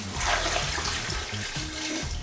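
A steady stream of water pours into a pressure cooker over potatoes and carrots, a continuous close splashing and gurgling with no pauses.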